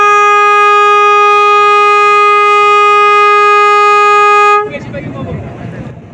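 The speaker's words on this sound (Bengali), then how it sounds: "তো লঞ্চ হর্ন দিচ্ছে কারণ সামনে হচ্ছে ধুলিয়া লঞ্চ ঘাট" A passenger river launch, the Glory of Srinagar 7, sounds its horn as it nears a launch ghat: one loud, sustained, steady horn blast of about four and a half seconds, then it cuts off into rumbling engine and ambient noise.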